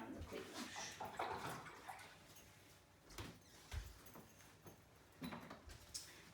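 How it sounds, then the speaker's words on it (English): Hands washed under a kitchen tap, running water splashing and rubbing faintly in the background for a few seconds, with a few soft knocks and no talk. "I'll just give my hands a quick wash."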